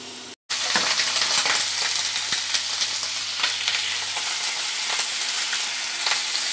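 Scallops frying in butter and garlic give off a loud, close, continuous sizzle with crackling spatters, starting abruptly after a brief gap and holding steady throughout.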